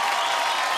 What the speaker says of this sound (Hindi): अनु मलिक के लिए जोरदार ताली